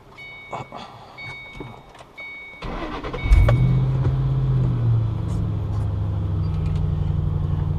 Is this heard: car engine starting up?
yes